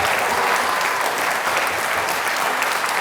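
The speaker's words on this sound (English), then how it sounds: "So another round of applause for Sebastian Hall." Sustained, dense applause from an audience fills the room at a community awards ceremony, with steady clapping holding at an even level throughout.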